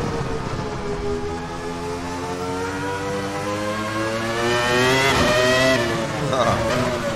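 A Ferrari F310B Formula 1 race car engine in the Assetto Corsa racing game revs loud and steady, its rising and falling harmonics sweeping through gear changes alone without talk.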